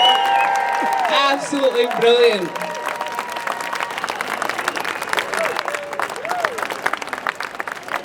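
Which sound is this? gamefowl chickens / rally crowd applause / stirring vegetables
rally crowd applause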